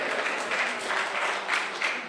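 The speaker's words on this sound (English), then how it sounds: "Big applause." A conference audience applauds, a fairly soft but sustained wash of many hands clapping that swells slightly in places, with little talk over it.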